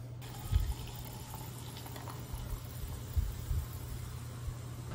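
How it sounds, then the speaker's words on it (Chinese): Sparkling water poured into a honey-lemon drink gives a steady fizzing, bubbling hiss over a low hum, with a few louder gurgling pulses, close by and without talk. "我今天特别准备了气泡水"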